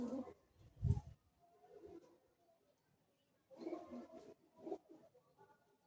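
Racing pigeons at a club competition coo in soft low bursts, a couple of throaty calls separated by quiet gaps, close by.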